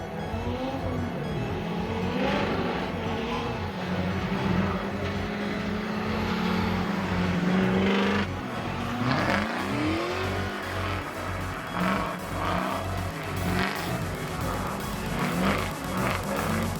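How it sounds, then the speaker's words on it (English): BMW race car at speed running close to a wall on a circuit, its engine roaring steadily with rising and falling revs and a brief tire squeal, loud and near throughout. "Rion's on a really good line there, letting his BMW run nice and tight to the wall"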